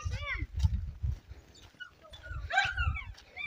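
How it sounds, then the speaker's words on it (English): A dog barks and whimpers in short yips at a distance, with faint ambient noise around it. "What are you barking for, Max?"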